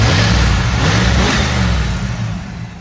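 A 350 crate engine in a 1986 Chevrolet Camaro IROC-Z runs loud and close, a deep throaty rumble with a rev that swells and then eases back toward idle.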